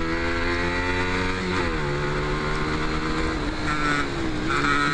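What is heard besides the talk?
125cc motorcycles riding on a race circuit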